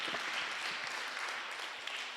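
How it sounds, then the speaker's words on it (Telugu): A church congregation at a Passover feast service claps steadily in a soft, continuous wash of applause, heard from a distance without voices. "గట్టి చప్పట్లు కొట్టి దేవుని స్తుతిద్దాం."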